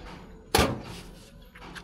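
A single sharp knock or clunk from the door of a stock Bajaj RE auto rickshaw, one quick impact with a short rattle trailing off in a quiet setting.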